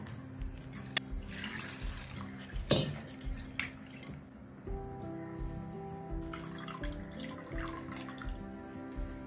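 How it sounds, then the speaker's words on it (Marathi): Chana dal rinsed in water in a home kitchen, with running tap water, splashing and dripping, sloshing stirs and short clinks of a vessel, close up, no talk. "आपण 2-3 पाण्याने स्वच्छ धुवून घेऊया"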